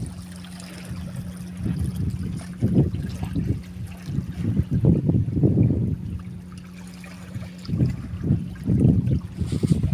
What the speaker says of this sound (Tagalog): Ang sarap pakinggan yung mga alon.